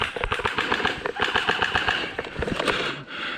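Enemy gunfire in a first-person shooter: rapid, dense automatic bursts rattle on continuously at close range, with a moment of quieter pause near the end.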